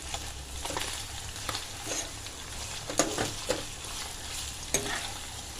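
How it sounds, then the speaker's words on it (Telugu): Chicken pieces deep fry in peanut oil with ginger garlic paste, giving a steady close sizzle with scattered crackles and pops and occasional stirring scrapes. "ఇలాగ ముక్కలు బాగా డీప్ ఫ్రై అవుతున్నాయి"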